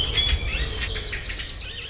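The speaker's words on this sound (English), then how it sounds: "is that you can't hear any gaps between the birdsong." Dense dawn chorus at its peak, many overlapping bird calls and chirps with no gaps between them, steady and moderately loud throughout.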